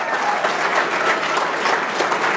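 Supporters at a Georgia primary runoff victory event for Brian Jack applaud steadily and densely throughout, a loud, continuous wash of clapping from a close crowd.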